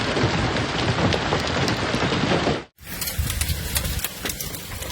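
A hailstorm in Springfield, Missouri, with giant hailstones hammering down as a dense, loud, continuous clatter that cuts out abruptly, then resumes as a thinner, sparser patter of impacts.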